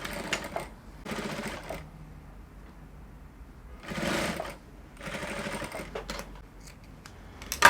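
A sewing machine runs in four or five short, loud bursts of stitching along a folded fabric strip for corset dress loops, separated by near-silent pauses.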